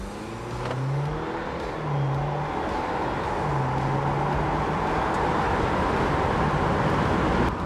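A Jeep Wrangler with its tuner switched off accelerates from a stop toward 60 mph, a steady engine drone climbing through the gears with rising pitch, close and continuous with road and wind roar.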